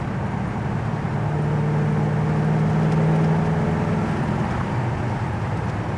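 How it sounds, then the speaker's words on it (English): A built small-block V8 in a 1971 Chevy Nova drives down the road, its steady engine drone and road roar filling the cabin at a constant, fairly loud level with no talking. "But this built small block runs really well."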